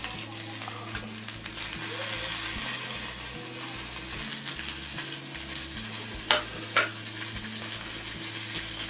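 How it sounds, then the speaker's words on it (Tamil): Boiled peanuts stirred and frying in a pan with curry leaves for a Navratri peanut sundal: a steady close sizzle with scraping stir strokes and a couple of sharper clinks near the end. "வேக வச்ச வேர்க்கடலை அதை போட்டுக்கிறேன்."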